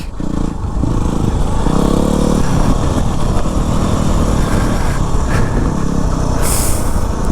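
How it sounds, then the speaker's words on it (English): A Yamaha WR250R dual sport motorcycle ridden on a motocross track, its single-cylinder engine droning loud and close throughout with small changes in pitch as the throttle varies. "Old man on a dual sport on a motocross track"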